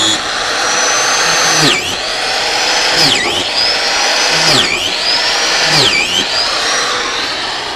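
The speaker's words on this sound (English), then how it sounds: "going to do is drill a series of holes in this oak logs" A power drill bores a series of holes into oak logs for mushroom cultivation; the motor whines steadily and sags in pitch with each bite, repeating about four times in a close, loud, continuous run.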